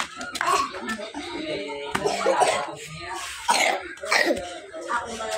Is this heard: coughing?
yes